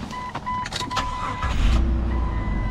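A Lexus IS300 engine cranking and catching, a brief whir and clicks followed by the low steady rumble of idle, close by.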